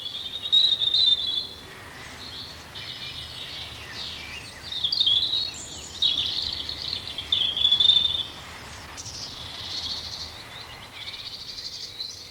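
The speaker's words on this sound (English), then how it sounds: "Is that churring bluetit? The bluetit getting really annoyed. But with a robin going there too. Yes, a nice robin song, quite strong robin song too." Ayrshire woodland with a blue tit churring and a robin singing a strong song, bursts of high, thin chirps and trills coming and going over a quiet outdoor background.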